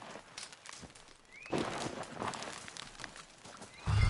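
A horse in the open-world western video game Red Dead Redemption 2 walks with soft hoof clops and lets out a brief whinny, faint and mid-distance under ambient outdoor noise.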